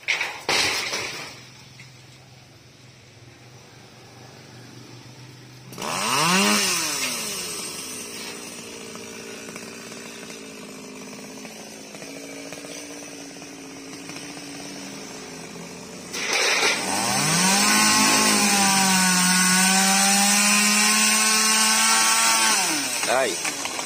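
Chainsaw cutting a large branch of a tall sao tree outdoors, the engine revving up and settling in long, loud whining bursts with pitch swinging as the blade bites, separated by quieter idling stretches.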